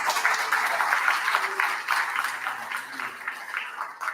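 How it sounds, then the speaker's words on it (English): A church congregation applauds to welcome back a returning speaker at a morning service, a steady wash of clapping sustained for several seconds at moderate level with no talk over it. "How about a round of applause?"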